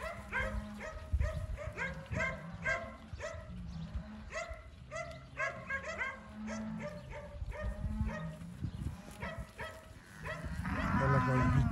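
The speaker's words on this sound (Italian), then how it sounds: "Sta spostando le vacche nell'altro pascolo." Piemontese cows moo repeatedly, loud and close, while dogs bark among them, a busy herd with calves being moved to another pasture at Alpe Peccia.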